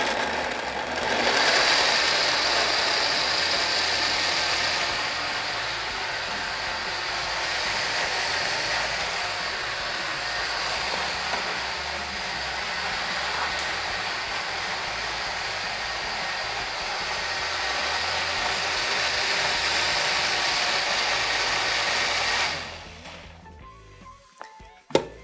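A blender runs steadily for about 22 seconds, churning a cream of chickpeas and seaweed with added water, a continuous loud whirring motor that stops abruptly, followed by a few faint clatters.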